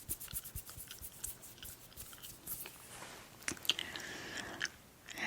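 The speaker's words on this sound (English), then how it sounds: "And if you don't like I'm chewing" Close, soft chewing and biting in a quiet ASMR setting, with irregular moist mouth sounds and a few sharper crunchy clicks, no talking.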